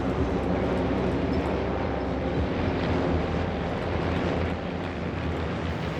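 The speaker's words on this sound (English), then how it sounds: "we start Tuesday's action with a mass arrival of Van's RV kit planes" A mass arrival of Van's RV kit planes at the Oshkosh EAA AirVenture 2018 fly-in, a continuous broad engine roar and drone from aircraft passing overhead at a steady moderate distance, with no voices.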